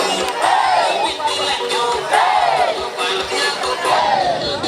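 Voters at a campaign procession in Dokolo South, Uganda, cheer and ululate in repeated rising waves, a lively crowd close by with rhythmic beats pulsing underneath.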